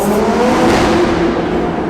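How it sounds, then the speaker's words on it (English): A supercar engine revs hard toward redline, a loud, steady, close roar that holds through the whole stretch with no speech over it. "It's actually my first time redlining this car"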